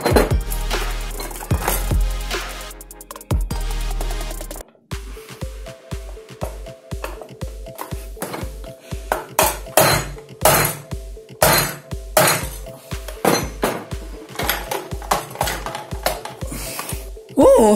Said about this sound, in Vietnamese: Vẫn phải dùng búa đục, không có cách nào khác.